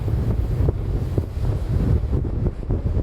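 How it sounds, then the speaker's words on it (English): Steady wind buffeting a microphone during a polar night in Svalbard, a constant low rumble with gusty swells and no talking. "Oh, it is windy"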